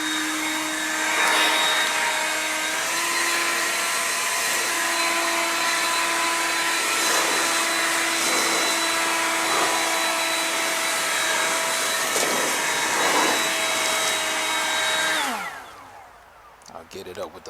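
A leaf blower runs loudly and steadily at a high-pitched whine for a long stretch, then winds down and cuts off near the end.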